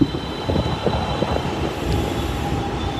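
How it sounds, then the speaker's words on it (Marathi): A metro train rumbles steadily with low mechanical roar and faint screeching tones as it pulls into a station nearby in Pune; no talking. "आल्या मेट्रो पण"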